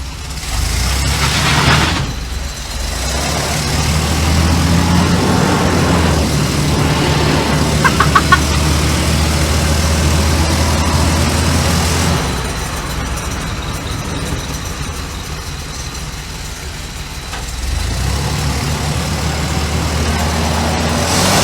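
A bagged $1500 Chevy van rumbles along while driving, its low engine drone mixed with rattles and clunks from the back, heard loud from inside.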